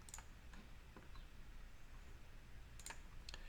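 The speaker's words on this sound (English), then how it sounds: "I'm going to click Stop Recording" A single sharp mouse click ends a screen recording, a few faint clicks scattered across otherwise quiet room noise with no talking.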